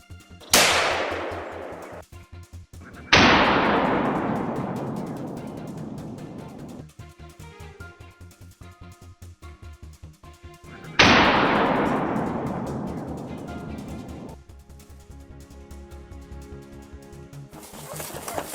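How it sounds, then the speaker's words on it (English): Three loud gunshots fired at wild boar during a hunt, each a sharp crack with a long decaying echo rolling across open country, spaced several seconds apart, with a fourth report cut off at the very end. "And the gunshot rings out again."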